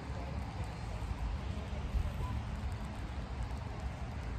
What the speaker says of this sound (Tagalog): Ulan dito guys.